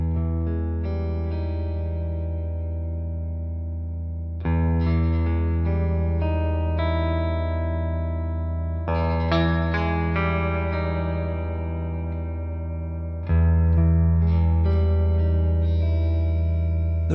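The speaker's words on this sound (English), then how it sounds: "let me just add a little bit of delay and reverb to make it more airy and" G&L ASAT Special Telecaster-style electric guitar strumming sustained chords with delay and reverb added, four rich ringing strums that swell and trail off into airy echoes, played alone with no talking.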